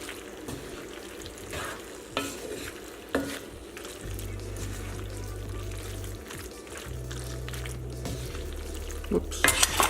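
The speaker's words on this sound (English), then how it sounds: "Mix this together." Shrimp and heirloom tomatoes being mixed in a hot pan for creamy tagliatelle, a steady sizzle broken by utensil clicks and scrapes against the pan, with a low hum and a clatter of cookware near the end.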